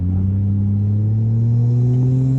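A Toyota JZX100 Chaser engine revs up steadily and close by, a deep rumble rising slowly in pitch through the whole stretch, with no voices.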